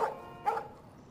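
Two short dog barks from a dog in the video game Life is Strange, the second about half a second after the first, moderately loud over a quiet background with nothing else heard.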